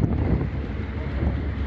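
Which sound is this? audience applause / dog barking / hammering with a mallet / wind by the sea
wind by the sea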